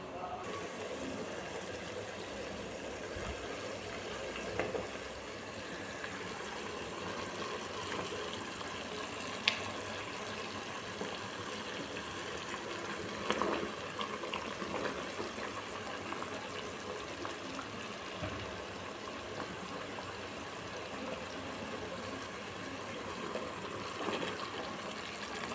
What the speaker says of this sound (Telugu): మన వాటర్ అనేవి మరుగుతున్నాయండి